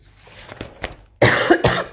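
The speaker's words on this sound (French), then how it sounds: "Je devrais vous prévenir avant de tousser." A few soft coughs come first, then two loud, harsh coughs close to the listener.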